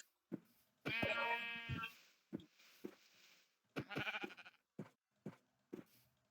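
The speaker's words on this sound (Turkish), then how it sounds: "Evet işte koyun filan yok mu ya?" Sheep bleat repeatedly in the Minecraft video game, with loud, wavering cries separated by shorter clicks and thumps of gameplay and no talking.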